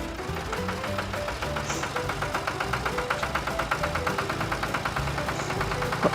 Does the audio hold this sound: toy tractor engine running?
yes